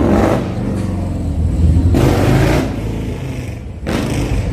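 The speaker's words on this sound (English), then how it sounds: "Oh, I hate those kind of motorcycles." A loud motorcycle revs past on a San Diego street, close and roaring, its engine surging in repeated bursts of throttle.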